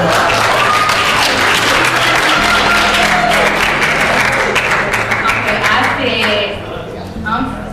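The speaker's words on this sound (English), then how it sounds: "Give her a round of applause." Audience at a community workshop on crime prevention breaks into loud, sustained applause that fills the room, dense clapping continuing for several seconds before tapering slightly near the end, with some voices mixed in.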